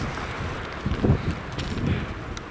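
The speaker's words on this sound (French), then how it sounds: "je sais pas si vous m'entendez bien avec le vent" Wind buffets a microphone on a mountain summit at 2400 metres, a steady blustery roar with low gusty thumps, close and fairly loud.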